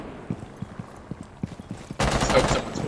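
Gunfire in Rainbow Six Siege: a series of sharp, evenly spaced single shots, then a louder, denser burst of fire near the end, with no speech over it.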